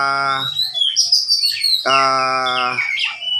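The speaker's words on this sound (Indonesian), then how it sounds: "Ini kacer saya" An Oriental magpie-robin, an oval-headed kacer giras, sings two loud, close bursts of bright whistled song with trilled notes, with a brief pause between them and no voices.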